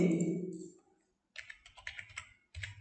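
Typing on a computer keyboard while entering a comment into a Fortran program: a voice trails off into a brief silence, then a quick run of close, crisp key clicks, a short pause, and another burst of keystrokes.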